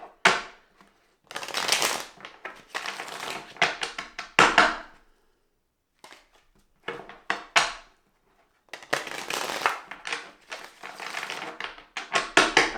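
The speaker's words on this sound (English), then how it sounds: "So I'm going to give this a couple shuffles first." Rider-Waite tarot cards are shuffled in several close, crisp bursts of riffling and slapping, with brief silent gaps between the rounds of shuffling.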